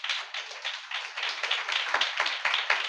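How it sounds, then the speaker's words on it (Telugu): A church congregation claps hands together during a Holy Communion service, a steady run of many overlapping claps in an even rhythm filling the whole stretch at moderate level. "చప్పట్లు కొట్టుపోయారు ఒకసారి."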